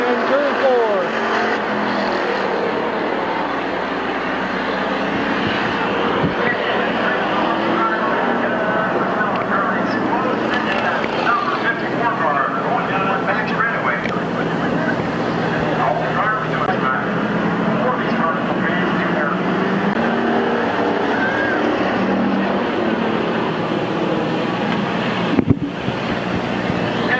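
Race cars circling the track at Midvale Speedway, a dirt oval race in June 1993, as a dense, continuous engine roar with wind buffeting the microphone, loud and steady throughout, with a brief knock near the end.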